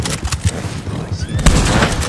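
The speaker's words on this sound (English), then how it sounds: "Damn, that was a good shot." Gunfire rings out during a Red Dead Online shootout, with several sharp, loud shots spaced across the moment and a trailing echo, heard close and without talk.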